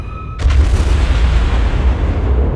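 Warship guns in World of Warships let off a heavy booming salvo that rumbles on low and loud for a couple of seconds, following a brief quieter moment, with no voices.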